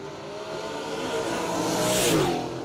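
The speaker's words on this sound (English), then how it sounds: "The little Camaro from Maryland is a screamer." Small Camaro drag car from Maryland revving hard at a no-prep drag race, a high-pitched rising engine scream heard from a distance with crowd ambience.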